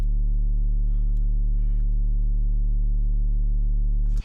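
A distorted sub-bass synth tone made in Serum holds one deep, steady pitch for about four seconds, rich in buzzing overtones, then cuts off abruptly.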